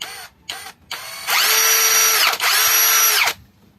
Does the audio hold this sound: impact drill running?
yes